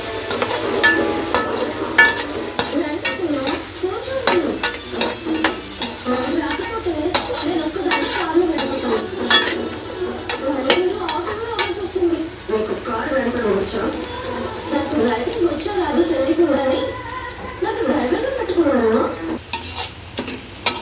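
Onions seasoned with salt and turmeric fry in a pan and are stirred often, so a sharp utensil scrapes and clinks over a continuous sizzle, while a person talks throughout.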